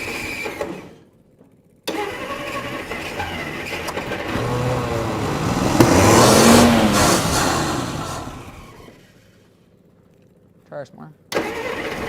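An old car engine that sat unused for 30 years cranks, catches and revs up loudly, then fades back toward idle, close by, with people talking briefly near the start and end.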